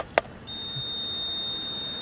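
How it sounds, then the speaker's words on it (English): A car's warning buzzer emits a steady, sustained high-pitched electronic tone after a brief click, holding alone and fairly close with no talking. "I don't know what that buzzer is."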